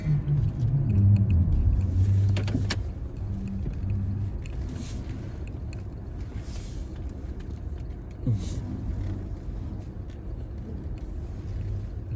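A car idles and rolls to a stop at a roadside, its low engine rumble steady and close throughout, with a brief louder swell near the start and a short clunk later on.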